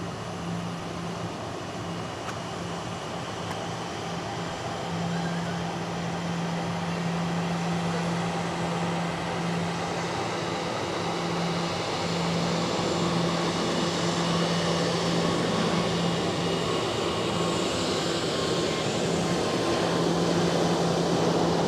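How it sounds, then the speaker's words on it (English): An Air Baltic airliner takes off at Zurich Airport, a steady broadband engine roar that swells gradually over the clip, with a low droning hum underneath and no voices. "Air Baltic are dominating the shot. One taking off and one taxiing out."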